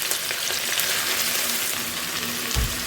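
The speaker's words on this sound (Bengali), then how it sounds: "মাংসটাকে একটু ভালো করে ভেজে নিতে হবে।" Chicken pieces fry with chopped green chilli and onion in a hot pan, a dense, steady sizzle with light stirring scrapes and a soft thud near the end.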